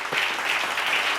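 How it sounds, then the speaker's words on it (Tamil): A church congregation claps briefly during a Tamil sermon, a short burst of soft, fairly distant applause. "கைத்தட்டு."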